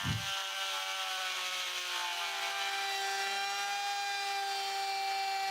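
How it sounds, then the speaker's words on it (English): A steady high-pitched Dremel rotary tool whine with a sanding disc rasping against a wooden longboard deck, continuous and close throughout. "I used a dremel tool with the sanding disc attachment."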